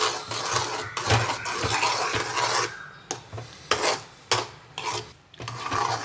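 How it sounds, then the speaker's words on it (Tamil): A spoon scrapes and stirs halwa cooking in ghee on a tawa, making repeated rasping, rubbing strokes against the metal pan in an irregular rhythm, close up and alone. "கைவிடாமல் நம்ம வந்து கிண்டிக்கிட்டே இருக்கணும்"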